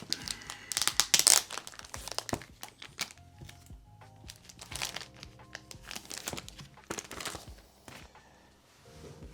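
Comic book packet holding Spectacular Spider-Man #2 and #3 being opened, with loud crinkling and tearing of plastic and paper in repeated bursts, up close, with scattered handling thumps and no talk.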